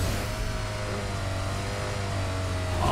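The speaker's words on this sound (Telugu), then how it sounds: "ట్రాక్టర్ వచ్చినాడు అసలు సౌండ్ ఇది" A tractor engine in the BGMI mobile battle royale game, a steady rumbling drone that holds at an even level throughout, with no voices.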